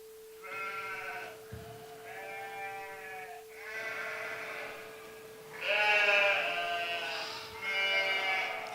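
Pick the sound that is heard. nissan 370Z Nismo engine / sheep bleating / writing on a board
sheep bleating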